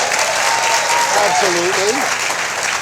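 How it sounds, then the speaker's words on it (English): A studio audience on a late-night talk show gives dense, steady applause that fills the whole moment, with a voice speaking faintly underneath. "That deserves a round of applause."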